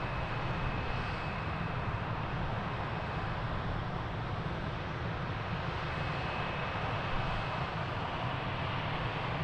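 An aircraft at Lisbon Airport gives a steady, broad engine roar that stays constant throughout, heard from a distance with no voices over it.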